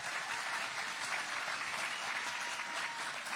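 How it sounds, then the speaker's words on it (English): Audience applause for young 65cc World All-Stars motocross riders at a pre-race press conference in Charlotte, North Carolina, a steady, dense wash of clapping filling the whole stretch at even strength. "We have any other questions for our 65s? All right, we'll give them a round of applause."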